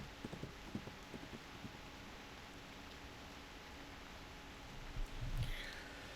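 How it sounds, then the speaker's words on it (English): Horse hooves clip-clopping at a steady walk in the game Reverse: 1999, faint and up close at first, then fading under a wash of rain-like noise. "The horse carries the two knights deep into the forest."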